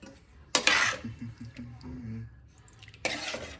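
A spoon stirs lentil kootu in a metal cooking pot, with two bursts of scraping and clanking at the start and end and softer murmuring and clinks in between.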